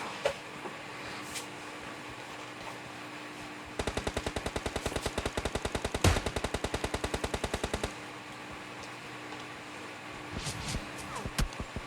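Gunfire in the mobile shooter PUBG Mobile Lite: a long rapid automatic burst of evenly spaced shots runs for about four seconds, moderately loud against faint background noise, with no talk.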